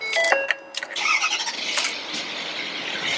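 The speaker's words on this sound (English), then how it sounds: "Start the vehicle." A 2011 Ford F-550 4x4 bucket truck engine cranks with a high squealing whine, then catches and settles into a steady, close idle with no talking.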